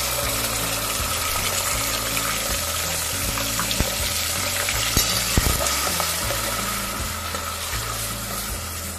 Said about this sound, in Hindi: और जो हमारा ये जिंजर गार्लिक का पेस्ट है उसे इसमें डालेंगे।